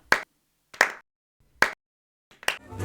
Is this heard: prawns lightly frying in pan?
no